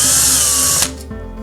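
Power drill backing out Phillips head screws from an EdenPURE GEN 3 heater, a loud, close whirring spin that cuts off abruptly, followed by a brief quieter motor pulse.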